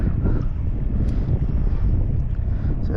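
Strong, steady wind buffets an open-air fishing spot ahead of Tropical Storm Debbie, a loud continuous low roar of wind noise across the microphone with no talking.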